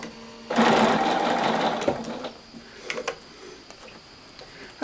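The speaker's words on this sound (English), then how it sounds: "So let's sew this one in." A Bernina sewing machine with a 1/4 inch foot stitches a quilt block in one close, steady run of rapid whirring for about a second and a half, followed by quieter ticks and fabric handling, with no talk.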